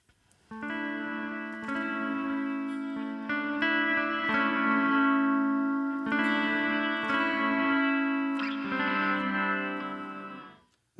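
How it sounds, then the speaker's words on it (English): Electric guitar chords run through a Line 6 HX Stomp inverted log nonlinear reverb that starts loud and then fades, with shimmering, chorus-like sustained strums in several long swells. The sound is close, alone, and has no talk. "you have this inverted log, so it's going to be the opposite. It'll be louder first"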